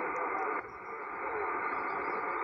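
Amateur radio signal buried in a steady wash of static hiss from a mobile station, the band noise loud and constant, dipping briefly before holding level with no clear voice rising above it.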